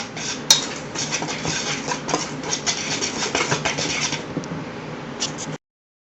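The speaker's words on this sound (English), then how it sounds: "Now we'll whisk all that together." A whisk scrapes and clatters against a bowl as ingredients and parsley are mixed for beer bread, a busy continuous rattle of metal on bowl with a sharp clink near the start, stopping abruptly.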